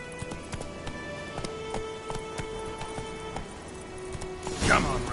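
Roach the horse gallops through Witcher 3, hooves clip-clopping in a steady rhythm under ambient game sound, with a louder burst near the end.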